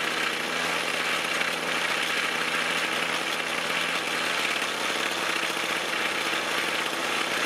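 A 2-stroke small engine, its carburetor low-speed adjustment being tuned, idles in a steady, even buzzing drone at constant volume for the whole stretch, with no talk.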